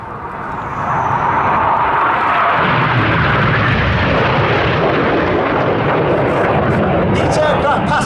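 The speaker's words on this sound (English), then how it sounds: "Each aircraft passing with only 30 metres, that's 100 feet of each other" RAF Red Arrows jets roar overhead during a flying display manoeuvre at the Midlands Air Festival, a loud sustained engine rush that swells in within the first second and holds for the rest.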